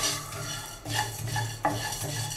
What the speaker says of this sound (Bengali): গোলমরিচ মশলাটাকে একটু ভেজে নিতে হবে